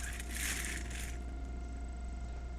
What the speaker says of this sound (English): There's a ripping noise and something is pressing on his tent